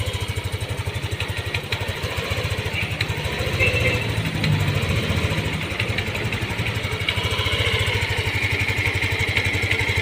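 A Yamaha Aerox/Nmax scooter engine idles close by with a steady, even, rapid putter and faint mechanical clatter, holding a constant level for the whole stretch.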